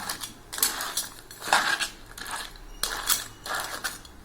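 A lid going over a pan of crab fry clanks and rattles in several short metallic bursts, separated by brief quieter gaps.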